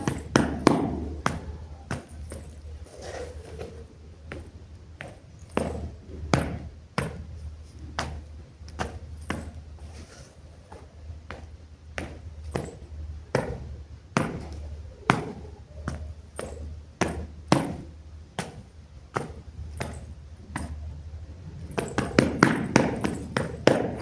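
Zapateo dance footwork rings out as sharp, percussive stamps and taps on a hard floor, a rhythmic series of distinct strikes that quickens into a dense flurry toward the end.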